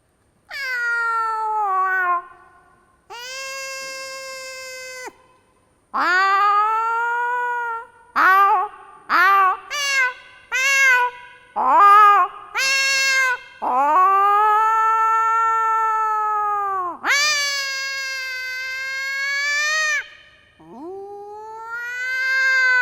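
A voice imitates two cats fighting: drawn-out yowls and caterwauls, then a burst of short, sharp snarling cries, then long wailing howls, loud and close.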